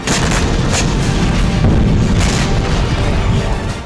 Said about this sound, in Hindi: हमास की सुरंगें और बंकर नष्ट करने के लिए इजरायली वायुसेना ने बंकर बस्टर बम से हमला किया।